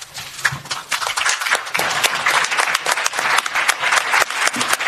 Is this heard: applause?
yes